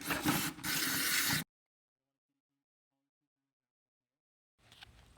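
A loud, close hiss of aerosol cleaner sprayed into a car's throttle body in two bursts, followed by silence and then a faint return of the spraying.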